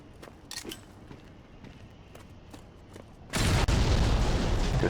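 A loud explosion hits the ground in the mobile shooter Modern Combat 5, a sudden sustained blast that follows quieter footsteps and faint gunfire.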